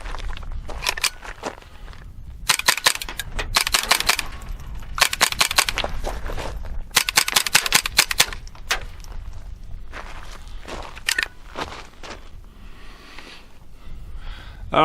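Suppressed .22 pistol shots firing a mixed magazine of CCI, Federal and Remington rounds, a series of sharp reports spaced irregularly across the clip with quieter handling noise between them.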